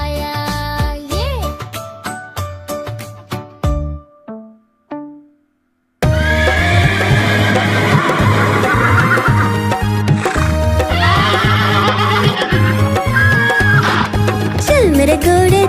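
A horse whinnies loudly inside a bright children's song, the neigh standing out near the start before full music with bells and a rhythmic beat takes over.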